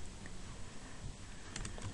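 Typing on a computer keyboard, a quiet run of soft key clicks with a few sharper taps toward the end, fairly close and with no talk.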